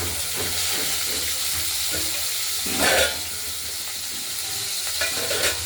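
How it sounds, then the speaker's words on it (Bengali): A continuous sizzle of raw cut potatoes frying in hot oil in a pan, with occasional stirring scrapes and a brief louder burst. "এবার কেটে রাখা আলুগুলো এতে ভেজে নেব।"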